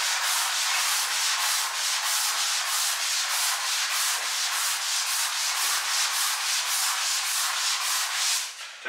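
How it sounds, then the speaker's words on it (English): Hand sanding of drywall in a flip house, close and steady, with rapid rhythmic back-and-forth scraping strokes continuing without pause. "But I just walk around with this and just sand it."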